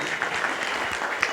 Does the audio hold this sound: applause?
yes